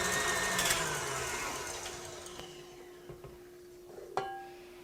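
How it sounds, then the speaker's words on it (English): A stand mixer with a whisk attachment beats eggs for a lemon meringue pie, a faint, steady motor hum that fades slightly, with a few scattered clicks and knocks. "we're just going to dump these straight into our stand mixer with the whisk attachment on"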